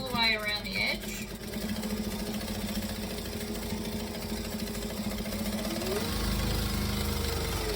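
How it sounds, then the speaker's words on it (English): A sewing machine runs steadily, top stitching around the edge of a fabric lining, a continuous mechanical hum that holds for several seconds and shifts slightly near the end. "I'm going to top stitch all the way around the edge"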